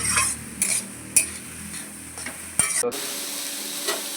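Mutton curry fries in a pan while a spoon stirs it, with repeated metallic scrapes and clanks over a steady sizzle, close and moderately loud, and the stirring eases toward the end.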